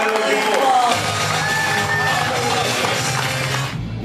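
A crowd at a motivational K-Day event erupts in loud cheering, whooping and shouting, mixed with applause, holding steady and close for about four seconds before it drops off abruptly.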